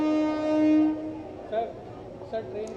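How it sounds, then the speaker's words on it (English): A decorated hydrogen-powered train arrives at Jind railway station in Haryana, sounding a long, tonal horn blast that fades into rumbling rail noise and faint distant chatter. "the train is all decked up and flowered. It's making its way on the Jind railway station"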